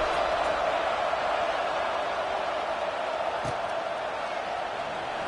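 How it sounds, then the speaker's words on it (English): Steady, dense crowd murmur fills a college football stadium between plays in a Cal versus Texas game, a continuous broad roar with no sharp peaks, heard at a distance throughout. "this crowd is buzzing after that last score"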